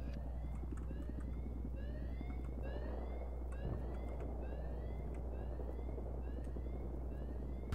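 A helicopter in Battlefield 3 on the Damavand Rush map drones low and steady throughout, with repeated high chirping tones layered on top and no talking.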